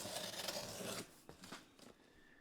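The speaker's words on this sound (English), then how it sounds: "bear with me here as I cut open the seal" Cutting through the sealing tape on a box of vinyl records, a faint close scraping rasp that runs for about a second, followed by a few short quiet scratches and rustles.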